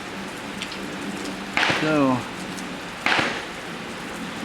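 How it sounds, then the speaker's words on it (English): Steady rain falls outdoors at a rifle range where a Ruger 10/22 is being sighted in, a constant hiss throughout, with someone speaking briefly over it twice. "the rain is sort of slowing down"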